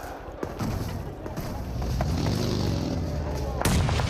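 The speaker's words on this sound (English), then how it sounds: "nades on target" Grenade explosions in a PUBG Mobile match at a grand-finals esports event, booming thuds and rumbling blasts layered under continuous crowd and caster noise, with a sharp burst near the end.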